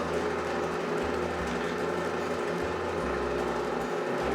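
A Somerset fondant sheeter machine runs steadily with a continuous mechanical whir and low motor hum, humming alone at a constant level throughout.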